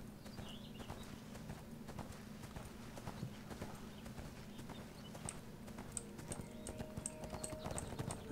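Rapid horse hoofbeats in the video game ArcheAge clatter in a steady galloping rhythm over a low hum, fairly quiet and continuous.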